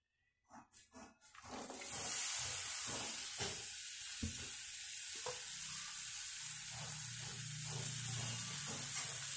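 Ginger and green chillies hit hot coconut oil with a sharp burst of sizzling that settles into a steady, bright frying hiss, with a few stirring clatters at the start.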